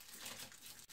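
Matches and a pencil being wrapped together in paper, matches with heads forward and pencil facing back, give a steady close crinkling and rustling for about a second, with a brief dip near the end.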